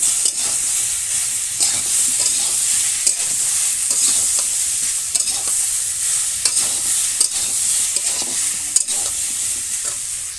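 Spice paste frying in a pan in a village kitchen, a loud steady sizzle broken by repeated scraping and clattering strokes of a spoon as it is stirred.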